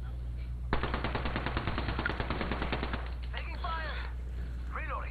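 Rapid automatic gunfire from the battle royale shooter Apex Legends on Xbox One, a fast even burst of about two seconds that ends abruptly, with voices chattering afterward.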